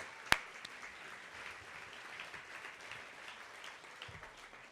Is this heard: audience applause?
yes